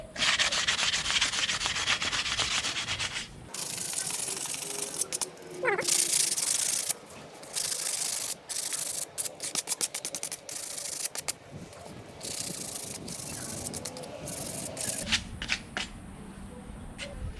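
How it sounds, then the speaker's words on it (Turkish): Rough fibres are sanded off a wooden traditional Turkish bow. The rubbing and scraping stays close and steady, in rapid strokes with brief pauses. "O tüylerine elimize batmasın diye kabasını bir alıyoruz."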